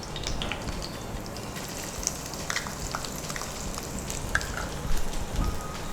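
Chopped onions frying in oil in a pan, a dense, steady crackling sizzle with a few sharper pops, close and continuous with no talking.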